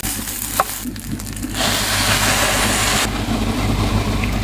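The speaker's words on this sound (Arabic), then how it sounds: "طبعا بعملها تحريكة وبضيف المي." Water poured into a hot pan of spiced rice for Syrian mansaf, a sudden rushing hiss that swells and holds steady over a low rumbling hum, with a faint clink of a utensil before it.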